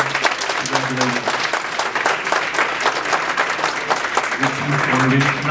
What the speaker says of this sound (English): We have another round of applause for her.